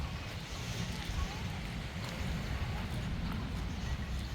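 Ocean waves wash onto Sokcho beach in Korea during its opening day, a steady low rumble of surf mixed with wind buffeting the microphone and faint background voices.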